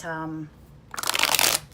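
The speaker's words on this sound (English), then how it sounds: "It has a linen finish. It shuffles beautifully." Linen-finish cardstock tarot cards riffle in a short, close, crisp burst of shuffling that follows a brief spoken word.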